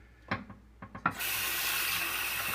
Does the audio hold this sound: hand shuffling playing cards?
no